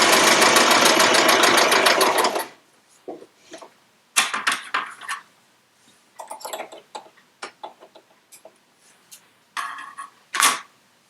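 Sewing machine stitching quilt pieces in a loud, rapid continuous run for about two seconds, then stopping, followed by scattered close clicks and handling knocks of the fabric and machine.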